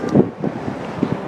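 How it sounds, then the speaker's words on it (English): Gusty afternoon wind in the town center of Salem, Massachusetts buffets the microphone in low rumbling bursts, with a steady outdoor hiss underneath. "it's kind of a windy afternoon"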